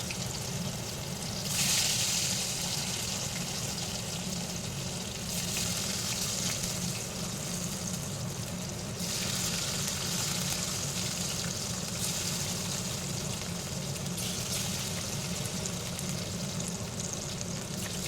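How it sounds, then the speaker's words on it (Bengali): Cumin seeds, bay leaf, dried chilli and hing crackling in hot oil for a Bengali tempering, a loud steady sizzle with bursts of spitting, close and continuous with no voices. "এবার এই তেলের মধ্যেই আমি জিরে, তেজপাতা, শুকনো লঙ্কা আর একটু হিং দিয়ে দিলাম ফোড়নে।"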